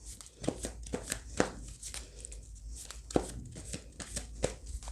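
A deck of oracle cards being handled and shuffled up close: irregular quick riffles and soft slaps arrive in uneven bursts, separated by short quiet gaps.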